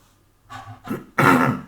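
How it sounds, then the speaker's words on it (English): A few short, close coughs, two small ones followed by a louder, harsher one, with silence before them. "Now the coughing have begun."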